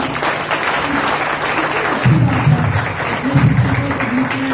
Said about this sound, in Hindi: तो डॉक्टर साहब के लिए बहुत जोरदार तालियां।